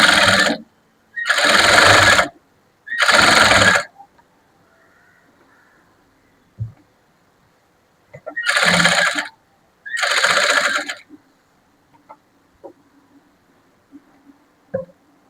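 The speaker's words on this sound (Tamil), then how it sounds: "தையல் போடும்போது ரெண்டு சைடும் கை வச்சுட்டு துணியை கொஞ்சம் இழுத்து கொடுத்து தைக்கணும், லூஸ் விடக்கூடாது" Sewing machine stitching around a blouse neckline in loud separate bursts, three quick runs followed by two more after a quiet pause, with faint clicks and handling noises between.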